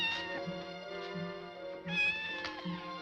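A black cat meows a few times in quick succession, close and fairly loud, over a steady tonal background hum, with no talking.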